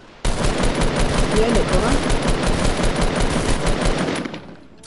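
Rapid automatic gunfire in a Fortnite duos match, a dense, loud burst of shots lasting about four seconds, with a voice speaking briefly over it.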